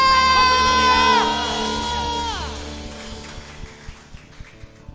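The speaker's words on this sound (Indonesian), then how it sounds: "Mari saudara berikan tepuk tangan dan kemuliaan untuk Tuhan kita. Sambil sorakan haleluya." A church congregation at a worship service cheering and shouting hallelujah, loud rising voices in unison that fade into scattered claps and murmurs.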